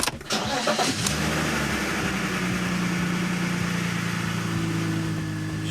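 A BMW E46 330i starts with a short cranking burst, then the engine catches and settles into a steady, loud idle that runs to the end with no talk.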